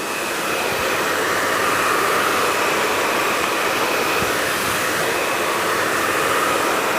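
Salon hair dryer blowing continuously during a mid-length blow dry, a loud steady broadband whoosh with a faint whine, close and alone without talk.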